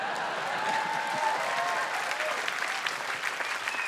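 A comedy-special audience applauds steadily and densely throughout, a loud continuous wash of many hands clapping with faint scattered voices mixed in.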